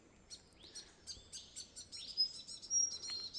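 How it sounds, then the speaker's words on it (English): Birds call along a bush trail in Monga National Park, NSW, a scatter of high chirps and short whistled notes from fairly near, growing busier toward the end over quiet background. "There's plenty of noise from the birds here,"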